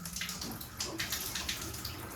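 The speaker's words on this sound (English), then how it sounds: "water's onto the shower." Water running from a shower just turned back on after a heating-pipe repair, a steady broadband hiss that stays even throughout, close by and fairly loud, with no talking.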